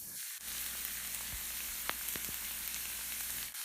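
Fried rice tossed in a hot pan with black pepper, fish dashi and oyster sauce gives a soft, steady sizzle with a few sharp scrapes and knocks as it is mixed, heard close and alone.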